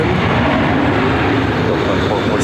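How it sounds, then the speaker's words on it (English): Delta Boeing 737-800 jet landing on runway 8 at Phoenix airport, a steady broadband roar of engine and rushing air filling the whole stretch, loud and continuous, with faint voices underneath. "I also just had a Delta land on runway 8"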